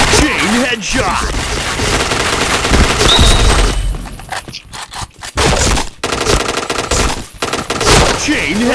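Rapid bursts of video game gunfire from a shooter match, loud and dense with booming shots and scraping effects, broken by brief gaps, with a voice calling out in the background.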